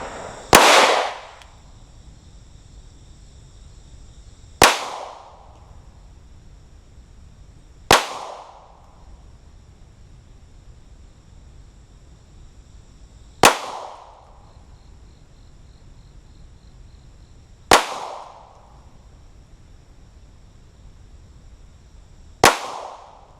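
A Glock 43 and a Sig P365 pistol fire at an outdoor range from 7.5 yards, six sharp, loud single shots spaced several seconds apart, each with a brief decaying echo.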